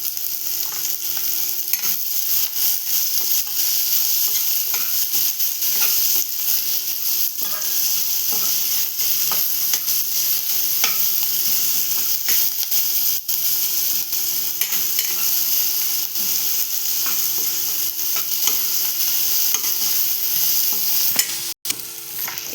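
Onion and tomato sautéing in a pan with salt for a Maharashtrian bean curry, a continuous close sizzle broken by the repeated scrape and clatter of a spatula stirring through the whole stretch.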